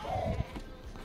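A sheep bleats once in Ghost Recon Breakpoint, a short wavering call lasting under a second, near and fairly loud over faint outdoor ambience.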